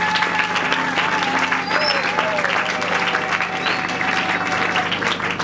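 A church congregation at a youth evangelical gathering applauding to acclaim God, with dense, continuous clapping throughout and voices calling out over it.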